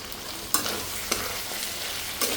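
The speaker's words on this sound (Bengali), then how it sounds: "দেবো আমি আদা বাটা, রসুন বাটা।" Ginger and garlic paste frying for a Bengali-style chicken curry, a soft continuous sizzle broken by a few sharp scrapes of a spatula stirring the pan.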